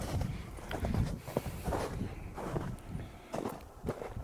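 Footsteps inside a building, heard from up on an upper floor: soft, faint, irregular thuds and scuffs spaced through a quiet room.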